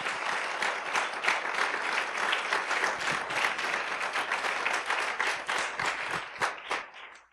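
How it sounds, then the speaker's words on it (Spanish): A congregation claps loudly and in unison at a sermon, the rhythmic, fairly close claps building into sustained applause that thins toward the end. "Si le vas a dar un aplauso, hazlo fuerte"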